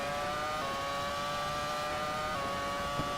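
A Toyota race car runs steadily on a street circuit through Lienz's old town during a full race, its engine holding a sustained tone that rises slightly near the end of a corner approach, without any talk.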